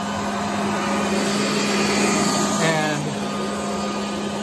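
A Tennant T3 floor scrubber runs its brush and pad motor in a steady, close whirring drone with a constant hum and a brief shift partway through; one short spoken word is heard.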